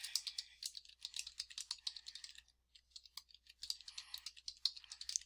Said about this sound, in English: I can type in what I need